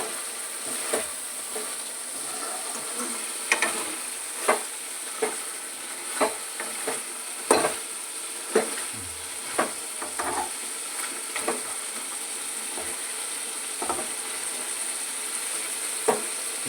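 Andhra-style chicken roast frying in a pan gives a steady sizzle, while a spoon stirs it in regular scraping strokes about once a second, close and with no talk.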